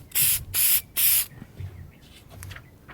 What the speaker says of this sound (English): You really don't need too much spray adhesive,